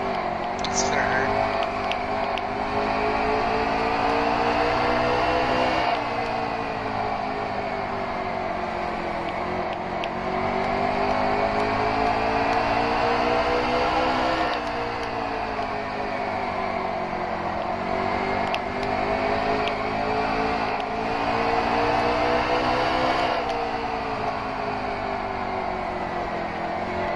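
Stock cars race around the Bristol short track, engines droning and rising and falling in pitch in repeated sweeps as a tight pack of four cars battles, loud and continuous, with commentators talking over the engine noise.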